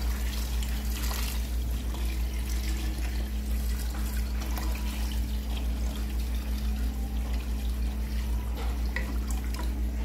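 Water poured into a cooking pot of sinigang na bangus with fish and seasoning, a steady continuous pouring trickle running the full length over a low constant hum, no talking.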